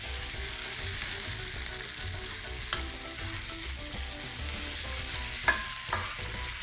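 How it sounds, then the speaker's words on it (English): Rice sizzles and fries steadily in a pan as a spoon stirs it, with a constant close hiss and a few light clinks and scrapes against the pan, no talking. "So I'm frying up the rice a little bit"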